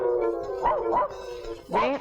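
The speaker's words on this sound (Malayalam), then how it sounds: "പട്ടി കിടന്ന് ബഹളം വെക്കണ കണ്ട" A dog barks and yelps in a few sharp, high bursts, with a short pause between them, fairly close.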